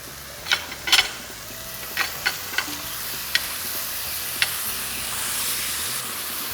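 Chicken searing in a pan over high heat, a steady sizzling hiss with a few sharp pops and crackles scattered through it, fairly close and with no talking.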